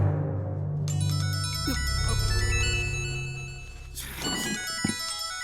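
A mobile phone ringtone chimes inside a courtroom in a Malayalam thriller film, its melodic tones repeating for several seconds against a low background hum.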